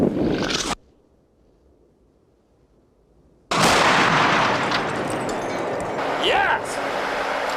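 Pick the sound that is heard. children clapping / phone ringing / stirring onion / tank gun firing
tank gun firing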